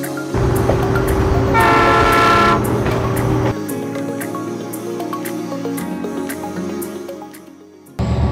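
A train passes near Whittier, Alaska, sounding its loud, sustained multi-tone horn for about three seconds, followed by the rumble and rattling of the rail cars rolling by close up.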